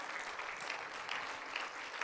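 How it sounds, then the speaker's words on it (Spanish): A church congregation claps together at the close of a Spanish-language worship service, a steady, even patter of many hands sustained throughout at a fairly soft level. "puede darle una ofrenda de aplausos al Señor"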